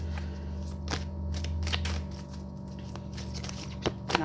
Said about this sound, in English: Shuffle, shuffle, shuffle, shuffle.